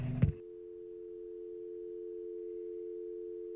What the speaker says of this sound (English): the phone would disconnect for a final time